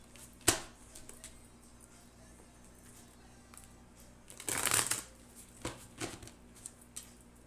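Tarot cards are handled and shuffled close up, with a sharp snap, a brief burst of riffling, and scattered soft flicks and taps in a quiet room.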